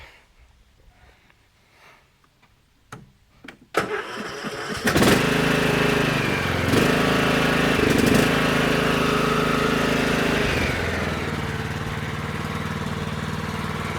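After a few clicks and pulls, a Craftsman or Troy-Bilt lawn mower engine starts at about four seconds and keeps running with a steady, loud drone.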